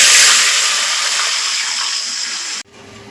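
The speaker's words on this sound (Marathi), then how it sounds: "तेच आपण आहे ना पाणी ओतून घेऊया" Water gushes loudly into a cooking pot of rice for veg biryani in a home kitchen, a steady close pour lasting several seconds and stopping abruptly.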